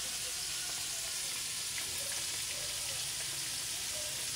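Fish frying in a pan at home gives off a steady, dense sizzle that holds at an even level throughout, with no talk over it.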